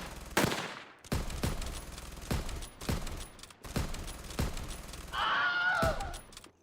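Gunfire sound effects from a stop-motion war film, sharp repeated shots cracking out at irregular intervals, loud and close, followed by a harsher shattering burst near the end.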